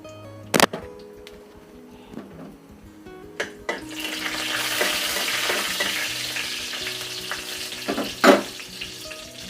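Oil sizzles loudly in a pan, with a couple of sharp clanks before a burst of frying hiss swells as nigella seeds go into oil with fried chili, plus another clatter near the end.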